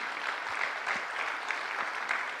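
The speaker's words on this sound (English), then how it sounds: "a big round of applause for the whole team that is working behind." An audience applauds steadily in a hall, dense even clapping that holds at a moderate level throughout without any voices on top.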